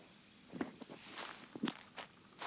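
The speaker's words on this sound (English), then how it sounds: "Listen to his footsteps." Soft in-game footsteps in a video game crunch at an unhurried pace, a few distinct steps, quiet and close with no talking.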